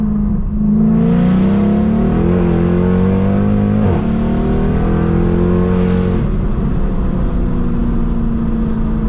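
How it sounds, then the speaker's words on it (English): A Mercedes C63 AMG 507 Edition engine roars close up in manual mode, revving and climbing in pitch through several gear changes, loud and continuous, with a brief crackle between shifts. "now that this car's warmed up, change it manual mode and do one acceleration"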